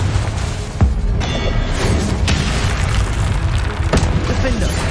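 Confringo fire spell blasts in Hogwarts Legacy combat, sharp booms at about one and four seconds over dense, continuous battle noise and rumbling game sound.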